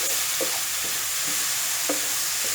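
Ripe red tomatoes go into a brinjal tomato curry frying in a pan, stirred with repeated scraping strokes over a constant loud sizzle, with no voices.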